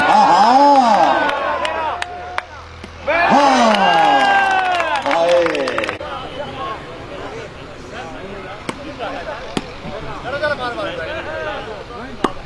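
At an outdoor shooting volleyball match, the crowd cheers and claps in bursts while an announcer shouts loudly over a loudspeaker.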